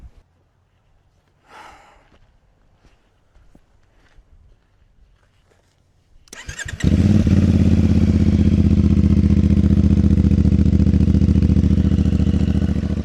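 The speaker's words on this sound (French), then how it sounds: "L'échappement est sympa, il fait un très joli bruit." After quiet shuffling and faint movement, the twin-cylinder engine of a CF Moto 450MT motorcycle cranks and fires up, then settles into a loud, steady exhaust rumble close by.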